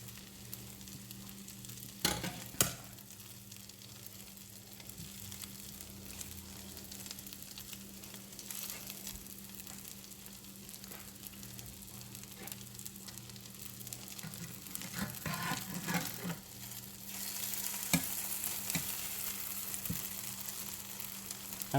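Vegetables for a meatless casserole frying slowly in a pan give off a steady hiss and sizzle, with occasional sharp clacks of stirring, close and unbroken, and no talk.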